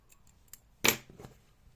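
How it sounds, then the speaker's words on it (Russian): Scissors snip the plush yarn tail once on a crocheted chick, a single sharp, close metallic cut followed by a faint click, in an otherwise quiet space. "Дальше я обрезаю хвостик"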